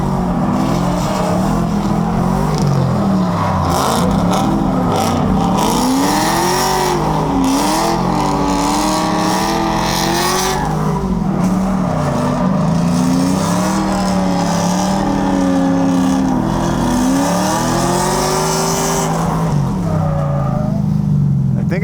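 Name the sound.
drift car racing on an oval track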